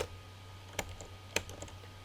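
A computer keyboard spacebar is pressed during bookkeeping data entry, heard as two sharp, quiet clicks about half a second apart over a steady low hum, with a few fainter key taps following.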